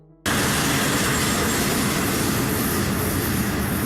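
A train roars past close by after a brief quiet start, a loud sustained rumble and rattle of wheels on rails that fills the whole clip.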